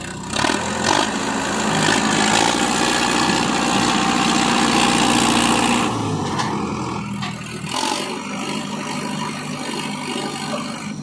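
Sonalika 750 tractor engine running with a loaded trolley, a loud heavy rumbling drone nearby that fluctuates and drops off about midway, then continues more unevenly with some clatter.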